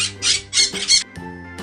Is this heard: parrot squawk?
yes